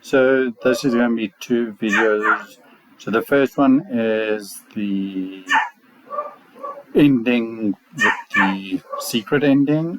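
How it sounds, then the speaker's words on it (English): A dog barks at home during a session of the game Pathfinder: Wrath of the Righteous, its sharp calls blended under a person talking nearly nonstop. "sorry for the barking."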